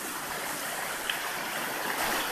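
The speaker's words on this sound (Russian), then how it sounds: "от водопада потом течет речка" A mountain stream runs over stones below Millomeris waterfall in the Troodos mountains of Cyprus, giving a steady, even rushing hiss with no voices, constant and moderately near throughout.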